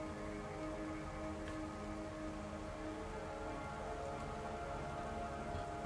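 Continuous rain in the DayZ survival game on the Chiemsee map, an even, moderate hiss of falling drops with a low background hum, no voices and no change in intensity throughout.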